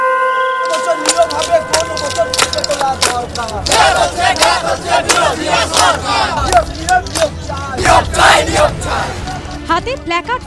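Crowd of job-seeking protesters chanting slogans at a street demonstration outside a recruitment board, loud massed voices rising and falling in shouted rhythmic bursts that run the whole time.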